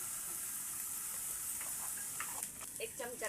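Dry ground spices, coriander powder, turmeric, salt and onion masala, frying in oil in a pan, a soft steady sizzle with light stirring scrapes and clicks, faint and close.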